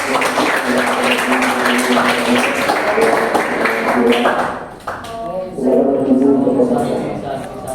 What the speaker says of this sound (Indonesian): Tepuk tangan lagi untuk teman-teman.